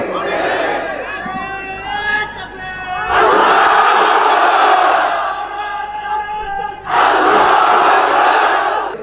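A large audience at a Bangla religious sermon by a preacher erupts twice in loud massed takbir chanting, each burst a dense roar of voices, with a preacher's amplified speech before and between the chants.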